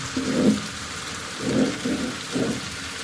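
Food frying in a pan as it is stirred around, a continuous hissing sizzle with three low swelling rumbles from the stirring, close and fairly loud, with no voices.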